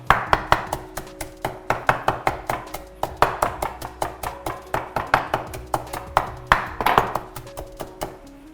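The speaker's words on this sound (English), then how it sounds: "Give it a rough chop." A knife chops Italian flat-leaf parsley roughly on a cutting board in quick, close, evenly spaced strokes. The sharp taps keep up a steady rhythm for several seconds with a few brief pauses.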